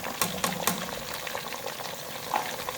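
Spicy masala fish frying in oil over a medium flame makes a dense, close crackling sizzle, with sharp pops and spatters near the start and steady bubbling throughout.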